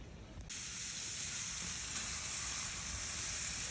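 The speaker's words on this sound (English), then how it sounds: "I'm just going to go sear them off on the gas grill." Cowboy steaks searing on a hot Monument Grills gas grill: a steady, dense sizzle and hiss, close and fairly loud, continuous throughout.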